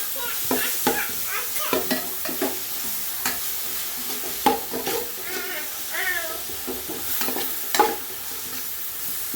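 Crushed shallots and onions sauté in hot oil in a pan for a chicken curry, giving a steady close sizzle broken by repeated stirring scrapes and clinks.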